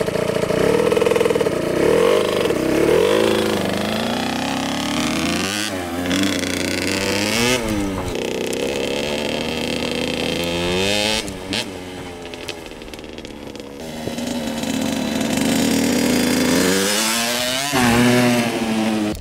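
A KTM SX65 motorcycle engine revs loudly and close, with repeated rising and falling throttle sweeps and brief dips between revs, continuous for the whole stretch.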